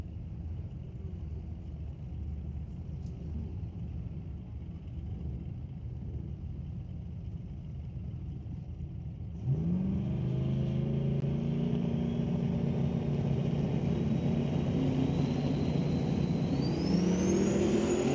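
A turbocharged small-block Ford drag race car engine rumbles at a distance at a qualifying event, then surges loud and near around the middle, its droning pitch climbing steadily as it pulls away under a steady crowd-and-track bed.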